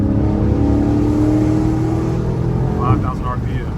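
A Dodge Charger engine revs under load toward about 5,000 rpm before a paddle-shift upshift, heard inside the cabin as a loud, steady, straining drone whose pitch slowly rises before easing, while someone talks over it.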